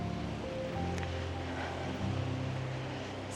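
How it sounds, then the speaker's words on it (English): Creek water flows steadily with a breeze moving through trees on a sunny day in Idaho, a constant, fairly close broadband wash with no speech. "just the sound of the creek, water, the breeze going through the trees"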